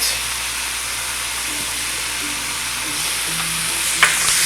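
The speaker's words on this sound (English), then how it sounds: "I'm going to add the onion, garlic, and tablespoon of butter into the pan." Onion, garlic and a tablespoon of butter fry together in a pan, giving a steady close hiss of sizzling with faint low hum beneath and one brief clink near the end.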